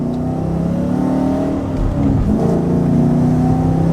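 A V8 car engine revs hard under acceleration, its steady, loud drone climbing and holding high revs with a brief shift in pitch midway, heard from close inside or near the car.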